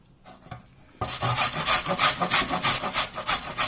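A carrot is rubbed against a fine grater in quick, regular rasping strokes after a second of near quiet. The strokes are loud, close and rhythmic, with no talk over them.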